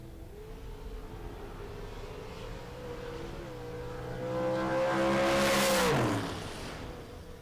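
A Class C door car at a racing event revs up and runs down the lanes, its engine note climbing steadily, swelling loudly around the midpoint, then dropping sharply as it finishes, with no talk over it.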